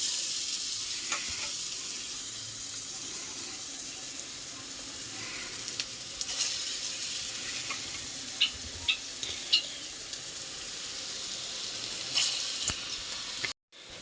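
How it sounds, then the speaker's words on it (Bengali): Lentil fritters (bora) fry in hot oil in a home kitchen, giving a steady, close, crackling sizzle with small pops throughout and no talking. "এক পিঠ আমার ভাজা হয়ে গেছে আর এক পিঠ এখন ভাজা চলছে।"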